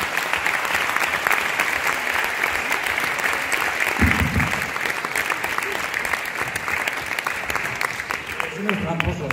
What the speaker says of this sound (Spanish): Un aplauso para David de Jorge.